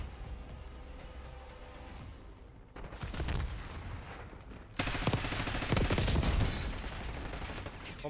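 Gunfire in Call of Duty Black Ops 6 rings out as bursts of rapid automatic shots, with a short burst, then louder, denser sustained fire, and no talking.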